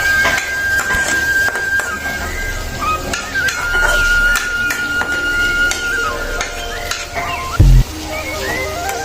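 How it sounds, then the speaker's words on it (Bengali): Shrimp bhuna with tomato and coriander leaves being stirred in a pan, with intermittent scraping and clinks of a utensil against metal over a soft sizzle and a brief loud knock near the end. "ধনিয়া পাতা দিয়ে আমি চিংড়ি মাছটা নাড়া করবো।"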